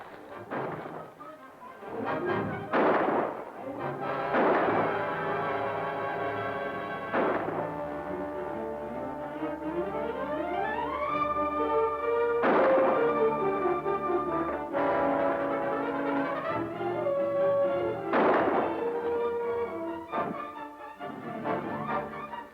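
Gunfire in a 1946 western film shootout: sharp shots repeated at intervals over a sustained orchestral score, some nearer and louder, ringing out across the scene.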